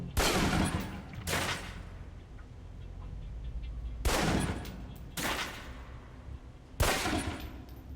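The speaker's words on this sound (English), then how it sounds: "Equip the pistol, then aim down range and take some shots at the target." Pistol shots fired at a target on a shooting range in the video game Alpha Protocol, five sharp reports spaced a second or more apart, loud and close over a faint low background hum.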